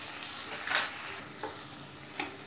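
Onions, ginger paste and turmeric powder frying in a pan for Bengali doi mach, a soft steady sizzle broken by a few brief stirring scrapes, close and fairly quiet.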